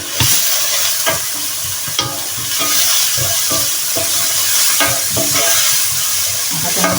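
Sofrito of tomato and mushrooms frying in a pan with a steady loud sizzle, stirred with repeated scraping strokes, close up and with no voices.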